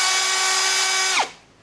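An Aneerpower 13mm cordless brushless hammer drill spins at full speed with a loud steady motor whine, then the whine drops sharply in pitch as the trigger is released and the motor spins down to a stop.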